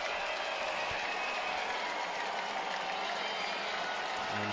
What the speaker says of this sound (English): what exactly the crowd is cheering for